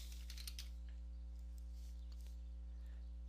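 Typing on a computer keyboard at a Windows 10 PC, heard as a faint, quick cluster of clicks early on and then sparse taps, all quiet over a steady electrical hum.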